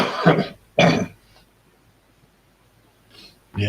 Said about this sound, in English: Yes, I still have this cough.